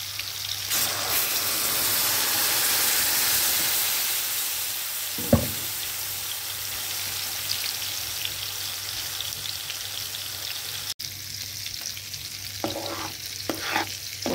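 Catfish fries in a pan with onion, a steady hissing sizzle close by, broken by a few sharp pops and light scraping stirs.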